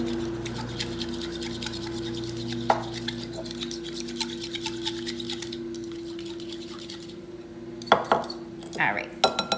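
A whisk beats cinnamon into a French toast egg mixture in a bowl, making a rapid, steady rhythmic clicking, then a pause before a few louder clinks and taps.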